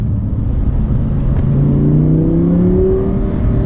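The V10 of an Audi R8 with a gated manual revs up under acceleration, a loud, close, deep engine roar that climbs steadily in pitch.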